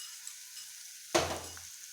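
Onions sautéing with salt in a pan for butter chicken: a quiet start, then a sudden loud burst of sizzling as they hit the pan, fading over the next half second into low frying noise.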